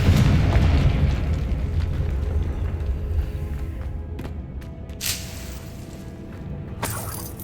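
Blast of the Confringo spell in the video game Hogwarts Legacy, a heavy boom that rumbles and fades over several seconds, followed by a few sharp smaller pops and crackles.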